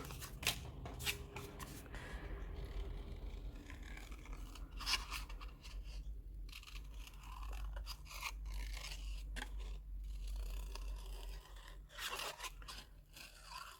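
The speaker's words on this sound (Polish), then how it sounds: "No i mam taki szablon, który teraz wycinam." Scissors snip and scrape through a paper template for making daffodil flowers, producing quiet, close-up cuts and rustles in an irregular rhythm with a faint hum underneath and no talking.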